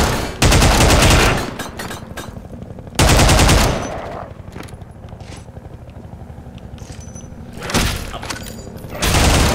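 Automatic gunfire from the video game Entropy Zero 2, loud rapid bursts opening and recurring midway and near the end, with a lower rumbling battle din between.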